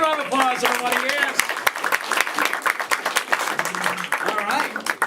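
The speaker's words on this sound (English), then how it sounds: "Give another round of applause, everybody." Audience applause at a comedy show after a game round: a burst of clapping from the crowd, with a host's voice speaking over the start and returning briefly near the end.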